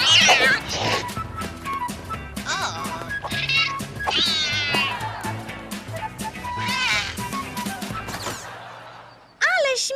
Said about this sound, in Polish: cały czas miauczy